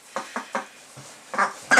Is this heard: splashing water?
no